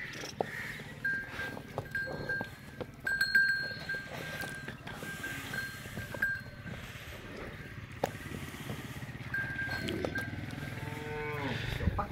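Pure Nili Ravi buffaloes at a farm sale in Punjab, Pakistan, give low, drawn-out moos over quiet outdoor ambience, with a clear call rising near the end.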